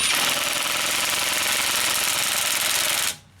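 A Ridgid subcompact brushless impact driver hammers steadily on a car's lug nuts, giving a loud, continuous rattling buzz for about three seconds before stopping abruptly.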